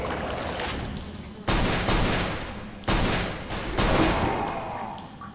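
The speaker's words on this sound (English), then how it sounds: "I think that guy just had a regular pistol, not a shotgun" Pistol shots ring out in the game CountryCide: three sharp, loud reports spaced a second or so apart, each trailing off into a long echoing decay over a faint background hum.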